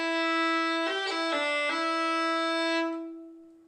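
A violin holds a sustained bowed note, broken by a few quick fingered ornamental flicks of a fiddle roll in the middle, then rings on and fades.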